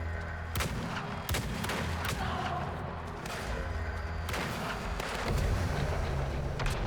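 Gunfire from a newly acquired gun in the video game Weird West: several sharp, booming shots spaced a second or so apart over a dense, continuous game soundscape.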